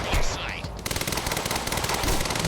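Rapid sniper and automatic gunfire in the video game Quantum Break crackles in a fast burst of repeated shots, loud and close, following a short whoosh at the start.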